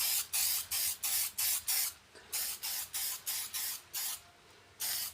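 An aerosol can sprays black paint onto a Nerf blaster in about a dozen short, evenly spaced hissing bursts, each clear and close, with quiet gaps between them.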